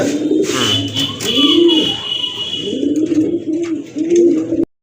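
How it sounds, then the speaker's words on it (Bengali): A pair of Bagha Chila pigeons coo loudly and close in rhythmic, rolling phrases that repeat steadily for several seconds, with no talking. "মাশাআল্লাহ দেখেন আরেক জোড়া কবুতর, চিলা কবুতর, বাঘা চিলা কবুতর"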